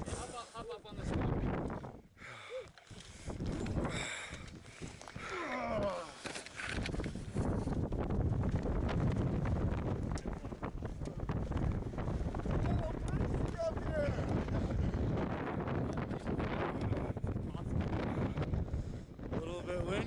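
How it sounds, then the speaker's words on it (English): Strong gusts buffet the open summit of Mount Whitney, roaring and rumbling loudly and close while a person speaks briefly through the blustery noise. "A little bit windy."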